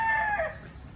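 A rooster crows once, loud and close, with a long falling call in the first half second that trails off into quiet background, with no voices.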